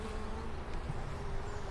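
Honeybees buzz in front of a beehive at an apiary, a steady droning hum close by that holds an even level throughout, with no voices.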